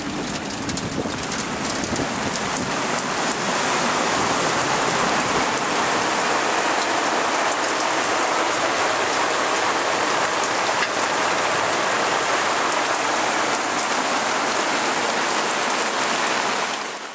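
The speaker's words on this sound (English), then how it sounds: "A wall of rain races towards us as the winds build." A heavy rain squall pours onto a boat cockpit as the wind builds, a loud, dense, steady downpour hiss that holds without a break.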